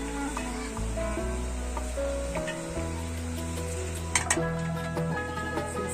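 Onions and peppers fry in ghee with a steady close sizzle, and a faint hum and a few light scrapes from stirring sit under it.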